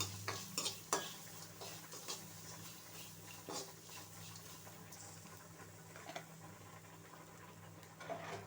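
Ground spice paste sautéed in a pan for pepper rasam, a quiet, distant-sounding sizzle with intermittent spoon taps and scrapes, a low steady hum beneath, and no talking.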